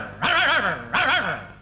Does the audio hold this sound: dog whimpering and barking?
yes